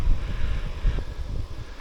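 Wind buffeting during a road bike ride in Muskoka, a loud, rumbling low roar of gusts over the microphone, heard alone without talk.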